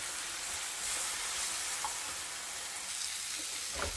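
A sofrito of oil and fried tomato sizzles steadily in a pan, a close, even crackling hiss with faint stirring clicks and no talking.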